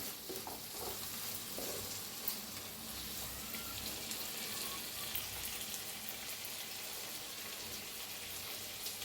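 Masala for masale bhaat is stirred and fried in a kadhai, with oil sizzling steadily throughout and scraping stirring sounds up close, and no talking.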